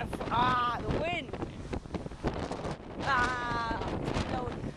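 Strong wind buffets the microphone in low rumbling gusts while people talk over it.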